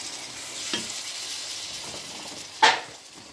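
Green beans, lima beans and gadra beans cooking in a pot for a vegetable biryani, a soft steady hiss broken by a couple of brief stirring scrapes, one sharper near the end.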